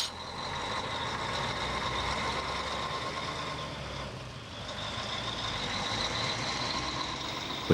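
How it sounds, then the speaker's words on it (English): A multi-deck livestock truck backs up to a sheep loading ramp on an outback Queensland property, its diesel engine rumbling steadily at mid distance with a continuous high reversing tone layered over it. "the second truck of this 24-deck lift swings into reverse to the ramp"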